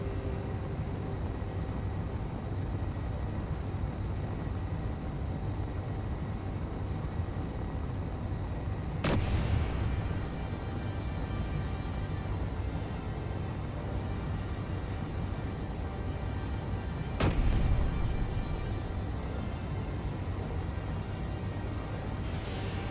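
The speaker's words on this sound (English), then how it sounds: "It's hard to snipe with the assault cannon." Two sharp, loud assault cannon blasts ring out several seconds apart in the spaceship-salvage game Hardspace: Shipbreaker, each decaying into a brief tail over a constant droning hum.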